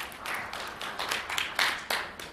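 An audience at a panel event gives a brief, scattered round of applause, with a handful of light, uneven claps at moderate distance.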